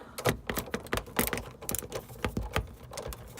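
Screws are worked out of the dashboard of a 2001 Jeep Wrangler TJ, giving quick close ratcheting clicks and taps in an irregular rapid rhythm, fairly faint.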